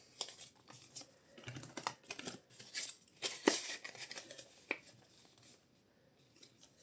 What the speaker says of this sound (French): Je prends le billet de 20 que je plie pour mettre dans l'enveloppe.